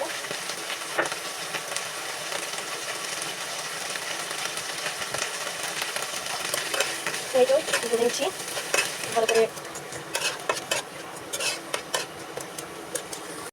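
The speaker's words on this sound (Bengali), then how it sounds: "এখন কড়াইতে তেল দিয়ে দিলাম এখন ধনিয়া পাতাগুলো ছেড়ে দিব" Coriander leaves fry in oil in a wok with a soft continuous sizzle, while a utensil scrapes and taps against the metal in irregular bursts, close by and without talk.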